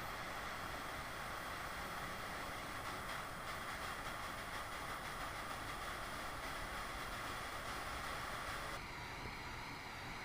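Lighter flame toasting a Casa Cuevas Reserva Natural cigar, a faint, steady hiss of burning gas that runs continuously and shifts slightly in tone near the end.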